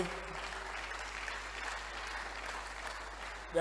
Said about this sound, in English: Clap for them well.